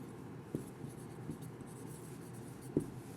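Pen or marker writing out an answer on a board during an English grammar lesson, a soft steady scratching with two sharper taps, close and fairly quiet, no talking.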